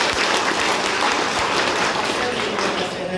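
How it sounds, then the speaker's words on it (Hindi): Loud clapping from the audience at a student induction programme, a dense, continuous wash of hands that stays strong throughout, with voices mixed in underneath. "हम चाहेंगे एक बार आप पुनः आप लोग जोरदार तालियों से"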